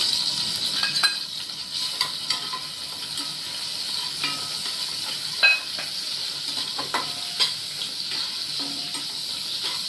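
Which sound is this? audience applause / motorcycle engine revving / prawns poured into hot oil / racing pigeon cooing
prawns poured into hot oil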